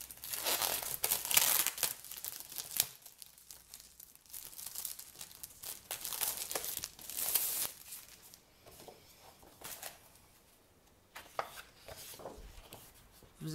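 Packaged scrapbooking paper is unwrapped close up, with repeated crinkling and tearing of plastic wrapping in irregular bursts separated by short pauses.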